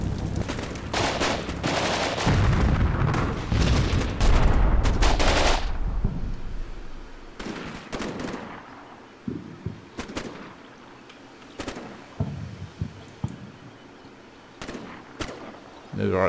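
Simulated gunfire in the wargame Combat Mission Black Sea, battle for Kipti: dense, loud bursts of automatic fire and shots for the first six seconds, then scattered sharp individual shots and short bursts over a quieter background.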